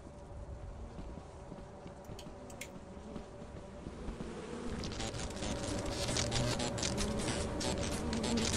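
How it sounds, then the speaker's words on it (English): Bees swarm from a disturbed hive in the video game Lethal Company, producing a droning buzz that swells louder partway through, with scattered clicks and rustles over it and no speech. "Okay, so I'll draw the bees one direction. You grab the hive and run the other way."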